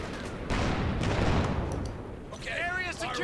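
An anti-tank gun firing at a Panzer IV in Company of Heroes 2, a loud booming shot with a rumbling tail over background battle noise, with a voice speaking through it.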